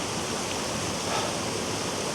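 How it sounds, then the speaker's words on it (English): Scale Falls waterfall pours in a fell-side wintry landscape, a steady, broadband rushing roar that stays even and moderately loud throughout with no voices. "here it is, Scale Falls waterfall"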